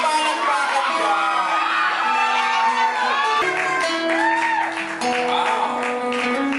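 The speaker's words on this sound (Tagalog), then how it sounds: "Isa bang mas malakas na palakpakan dyan?" A large audience breaks into loud, sustained applause with cheering, whoops and shouts, a dense continuous roar that holds steady throughout, with some voices audible in the crowd.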